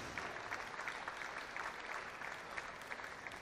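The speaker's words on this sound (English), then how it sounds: "Applause from the crowd." At a badminton match, a men's singles round-of-16 tie at the Scottish Open Grand Prix, an indoor arena crowd claps steadily and continuously, a dense patter of applause with no voices over it.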